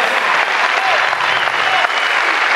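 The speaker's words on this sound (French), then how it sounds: "on peut l'applaudir" Applause from a comedy-club audience in Brest, a steady loud wash of many hands clapping that holds throughout with no letup.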